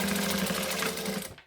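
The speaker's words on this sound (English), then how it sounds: "We're going to back stitch." A sewing machine back stitching, a rapid close mechanical whir with an even pulsing rhythm that runs briefly and then cuts off.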